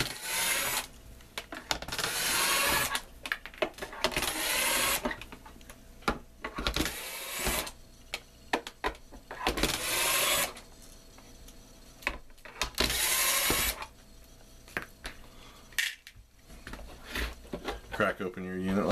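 Six screws are taken out of an ozone generator unit with repeated bursts of close screwdriver rubbing and squeaking, separated by short gaps, while someone talks in between.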